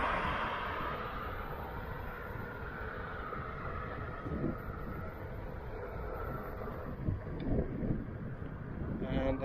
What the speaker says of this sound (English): And I'm getting some pushback here in the wind.